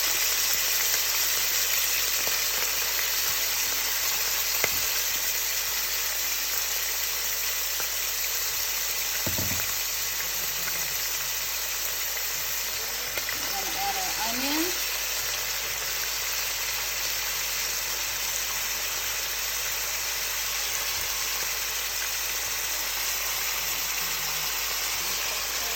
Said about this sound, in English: Now that our oil is hot, we're gonna go ahead and add our saltfish.